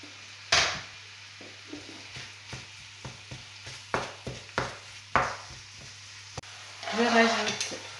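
Minced beef with carrots fries in a pan, a soft sizzle punctuated by a series of scraping and clinking stirs, close up, with a louder burst of frying near the end and no clear speech.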